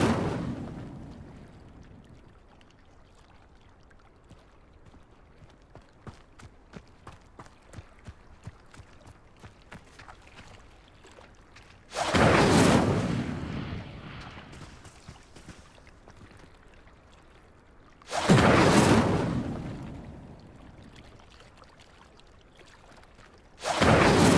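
Incendio fire spell in the Hogwarts Legacy video game lighting pyres, two loud whooshing bursts of flame several seconds apart with a third starting at the end, over quiet ambient game sound.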